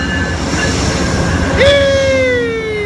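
A train rolls into a station in Oakland close by with rumbling wheels and a rising, then sustained squealing tone as it slows.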